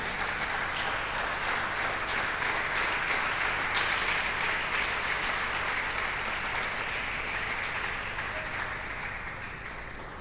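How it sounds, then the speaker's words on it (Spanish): A church congregation applauds together in a steady, dense wash of clapping that holds strong for about ten seconds and eases slightly near the end, with no voices over it. "¿Le puede dar un aplauso al Señor,"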